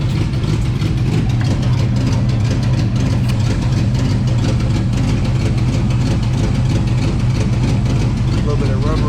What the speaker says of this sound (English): Exhaust leak does not sound good